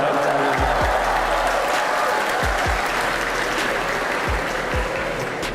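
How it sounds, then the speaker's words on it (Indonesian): Audience applause at a televised talk show on Indonesian regional government, a sustained burst of many hands clapping, loud and close, lasting the whole stretch with thumps from the crowd mixed in. "Kenapa tepuk tangan nih?"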